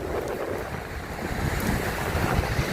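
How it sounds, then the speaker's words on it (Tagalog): Sea waves washing onto the seashore, a continuous loud roar of surf mixed with heavy wind buffeting, close and steady with no voices. "Dito tayo sa tabing dagat."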